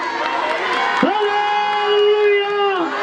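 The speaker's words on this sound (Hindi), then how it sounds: "तालियां और हालेलुया दे नारे लगे है" A crowd at a Christian Shobha Yatra procession cheers and claps, voices shouting together over a steady clatter of applause, with one sustained loud shout rising above the noise.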